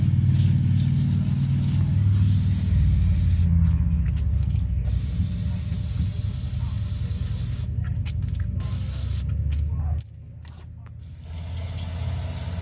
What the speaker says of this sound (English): Spray this off real quick.